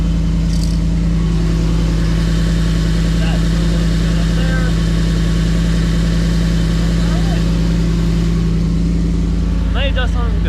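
A car's engine idles steadily close by after a Mishimoto aftermarket transmission cooler is installed, a loud, constant low rumble throughout while someone talks briefly over it.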